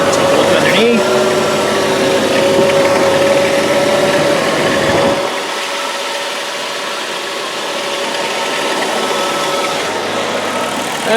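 A 3.3 liter V6 in a 2001 Dodge Grand Caravan idles with a steady low hum, heard close by; the engine note drops noticeably quieter about halfway through and settles into a softer, even drone.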